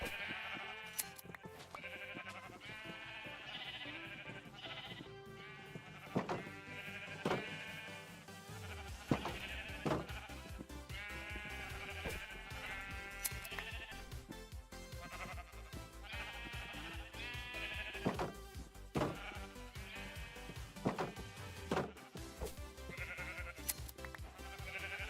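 Minecraft sheep in a hardcore survival world bleat over and over, overlapping and continuous, a flock of fairly close digital baa calls above a low background tone.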